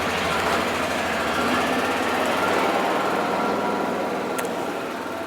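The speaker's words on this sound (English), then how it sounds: "Actually, she's in the four-wheeler, going to go get in the tractor." A four-wheeler engine runs steadily on a farm, a continuous buzzing drone at constant level with no voices over it.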